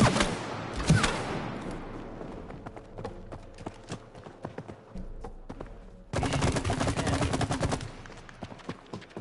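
Gunfire in the co-op video game It Takes Two, aimed at a lamp, comes as a burst of shots at the start, then scattered pops, then a loud sustained stretch of rapid fire near the end.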